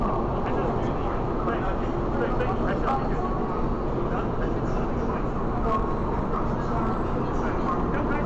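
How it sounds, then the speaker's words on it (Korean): Inside a train travelling to Taichung, Taiwan, a steady broadband rumble and hiss of the moving carriage fills the space, continuous and even throughout with faint knocks. "다음 날이 되어 타이중으로 가는 기차 안입니다."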